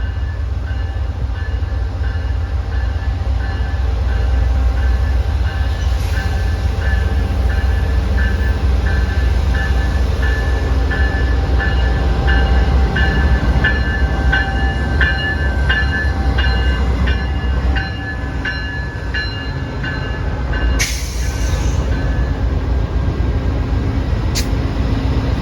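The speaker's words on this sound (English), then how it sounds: "Moving up the platform, we see Amtrak 48 again, this time pulling forward in order to load more cars" Amtrak 48 passenger train at Depew Station pulling forward along the platform, a steady loud rumble of the locomotive and rolling cars with faint tonal squeals and a brief sharp hiss near the end.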